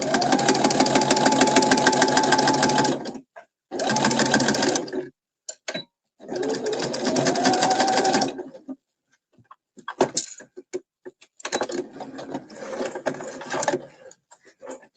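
Sewing machine stitching fabric at a live crafting session, a loud continuous mechanical whir in long bursts with brief pauses, then lighter intermittent clicks and handling noises.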